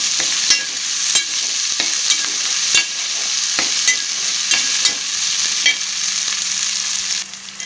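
Country chicken frying with coriander in a pan, a loud close sizzle punctuated by regular scraping clacks of a spatula stirring, steady until it drops off near the end.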